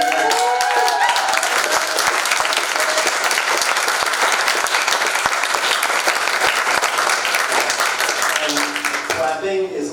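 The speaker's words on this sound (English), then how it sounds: "Clapping is awesome" An indoor audience claps steadily and loudly for the venue staff at a live event. The applause runs unbroken for about nine seconds, then fades.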